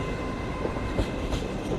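A two-car Class 150 diesel train passes on the East Coast Main Line at Doncaster, giving a steady, fairly loud rolling rumble with faint rail clicks throughout, with no talking.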